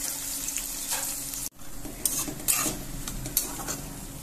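Chopped onion pieces sizzle and fry in a pan for ridge gourd curry, with a spoon stirring and scraping against the metal in several close, short strokes.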